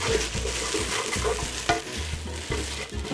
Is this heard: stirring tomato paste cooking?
yes